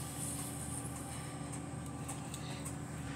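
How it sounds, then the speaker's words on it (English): A train rumbles past in the Rolling Line railroad video game, a steady broadband roll with faint high clatter holding constant throughout, with no talking over it. "There's another train."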